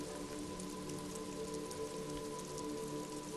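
Rain falls steadily in the video game Disco Elysium, a soft continuous patter and hiss of drops on surfaces at an industrial harbour, faint and even throughout with no voices.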